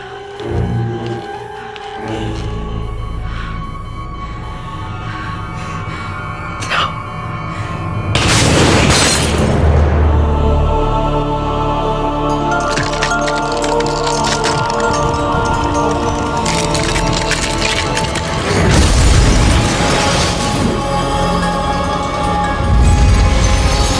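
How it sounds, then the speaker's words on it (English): Heavy glass crashing and shattering in a Child's Play horror film scene, with loud booming impacts and breaking sounds layered over tense movie score, surging repeatedly through a long sequence. "that is Claire's falling glass"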